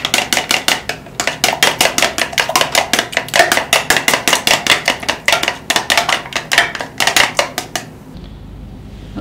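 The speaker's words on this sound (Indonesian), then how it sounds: "Ada 2 buah telur, kita pecahkan. Kita kocok lepas." Rapid, steady beating of two eggs in a bowl, a fast run of sharp clinking strokes that carries on for about eight seconds before stopping, close and fairly loud with no talk.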